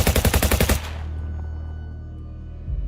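A rapid burst of gunfire shooting at aswang, about a dozen loud, close shots in quick succession, then cut off abruptly into a low ringing tail.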